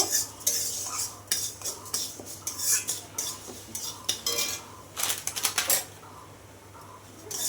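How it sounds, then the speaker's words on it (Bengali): Mung dal is stirred as it fries in a pan, giving close, irregular metallic scraping and clinking of a spatula against the pan in quick bursts over a faint background hum. "ডালটা লাল লাল করে ভেজে তুলে নেব"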